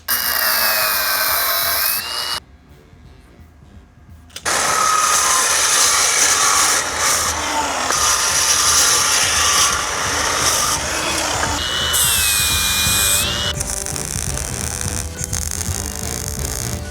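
Harsh, loud grinding of a power tool cutting the metal upper suspension links for a Toyota Tacoma rock crawler build, with a brief pause near the start before the cutting resumes and runs on in bursts.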